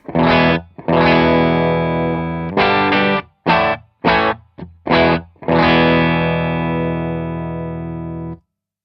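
A distorted Dr. Z electric guitar amp plays chords in uneven stabs, ending on a long sustained ring, with a springy reverb wash behind it.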